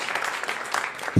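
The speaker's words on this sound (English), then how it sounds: "Pre-applause, I like it." Comedy club audience at a Tommy Chong stand-up set, a brief burst of steady applause from the crowd, cut off by a thump at the end.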